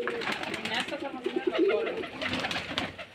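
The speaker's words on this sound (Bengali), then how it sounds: "আমাদের রাজশাহী গিরিবাজ কবুতর দেখতে অনেক সুন্দর লাগে" Rajshahi Giribaz pigeons coo at a pigeon farm in Bangladesh, soft rolling coos rising out of the flock's murmur while someone talks over them.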